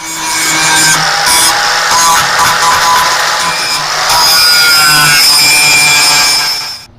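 A power tool grinds down weld beads on a homemade steel clamp, a loud, close, continuous harsh whine with brief dips in pressure before it cuts off at the end.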